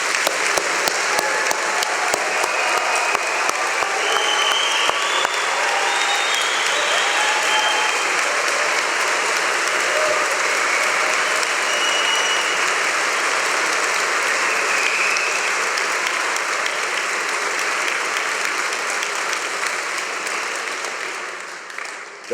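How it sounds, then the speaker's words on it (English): Large audience at a graduation degree ceremony in Manchester giving a long, loud, sustained round of applause that fades slightly at the end. "let's start today's ceremony by giving our amazing graduates a huge round of"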